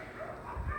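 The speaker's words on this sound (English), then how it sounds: "there's so much dog activity outside" Dogs bark outdoors somewhere beyond an indoor dumbbell class, a brief, muffled burst of yips and woofs that rises near the end over a low room hum.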